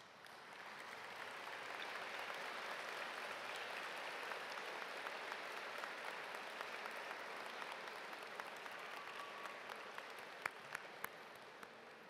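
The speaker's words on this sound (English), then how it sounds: "let's stand and give them a round of applause" An audience at a recognition ceremony rises to applaud the parents, a broad, sustained wash of clapping that builds and holds, with a few louder nearby claps near the end.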